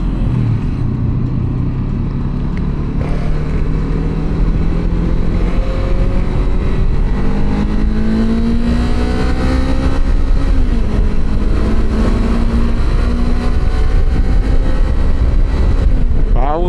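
A stock-exhaust 500cc touring motorcycle engine drones steadily on a city road, its pitch rising and falling through revs over wind and road noise, loud and close throughout.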